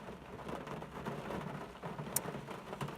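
Steady rain falling outdoors, a soft continuous patter and hiss with scattered closer drops, fairly faint and unaccompanied by voices.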